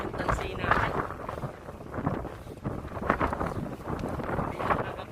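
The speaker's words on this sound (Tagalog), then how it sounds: "Mahangin yung tansi natin." Strong wind buffeting the microphone outdoors on a fishing trip by the sea, a continuous rough rumble that surges and eases in gusts, with a voice speaking over it.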